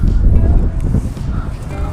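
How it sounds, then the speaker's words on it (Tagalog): Strong wind at the seaside roars steadily into the microphone as a dense, continuous low rumble with no breaks. "Gawa ng malakas po ngayon ng hangin dito sa gilid ng dagat"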